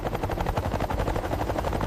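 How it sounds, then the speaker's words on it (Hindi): Z-10ME attack helicopter in flight, rotor blades chopping in a fast, steady rhythmic pulse over a loud engine roar, close and continuous with no talk. "यह है Z-10ME अटैक हेलीकॉप्टर जो हर लम्हा जंग के लिए तैयार है।"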